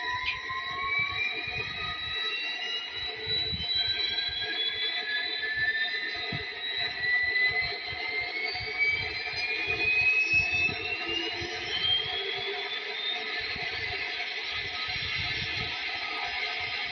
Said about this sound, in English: let's start the Amtrak up and take both of them for a ride